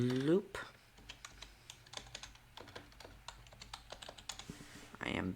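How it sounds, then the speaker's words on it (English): Someone types on a computer keyboard while coding a Python Discord bot, producing rapid, close clicking keystrokes in irregular bursts, with brief speech at the start and end. "I am bad at typing today."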